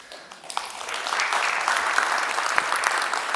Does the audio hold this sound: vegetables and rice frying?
no